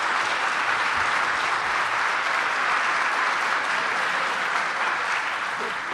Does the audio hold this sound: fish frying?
no